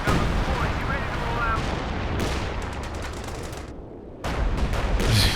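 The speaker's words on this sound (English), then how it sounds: "A full land mattress barrage at like 80-ish range." Land Mattress rocket barrage in Company of Heroes 2, a dense rumbling roar of rapid rocket launches and blasts that runs on without a break, dips briefly near the end, then surges back loud.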